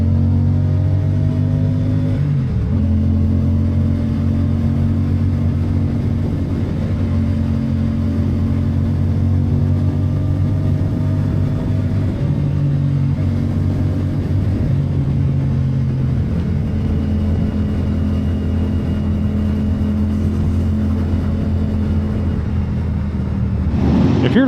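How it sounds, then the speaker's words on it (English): A CFMOTO 450SS sport motorcycle engine with a loud aftermarket Yoshimura exhaust idles and revs steadily, a deep continuous rumble close up with a brief blip near the start and end. "you're going to hear the sound of the CFMOTO 450SS with the Yoshi exhaust"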